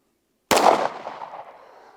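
A single close, loud handgun shot fired on a shooting range with a weak grip and loose wrist, cracking sharply and then decaying over about a second and a half, with no talk.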